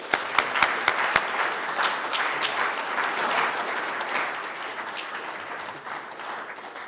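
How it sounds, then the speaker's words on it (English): A Veterans Day recognition audience at a Rotary Club event breaks into steady applause for a Marine Corps veteran, opening with a few sharp claps before settling into a sustained, moderately loud wash of clapping. "Let's welcome him with a round of applause."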